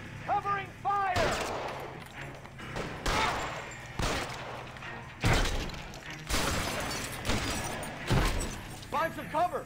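Gunfire in L.A. Noire: repeated bursts of shots and sharp cracks come in clusters roughly every second or two, loud and close, with someone talking between and over the volleys.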